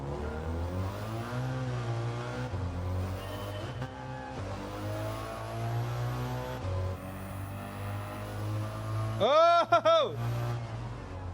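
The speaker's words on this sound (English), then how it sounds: "We're driving a Fiat Panda." A 29-horsepower Fiat Panda's small engine hums steadily while driving in Gran Turismo, with a burst of tire squeal near the end and a person talking over it.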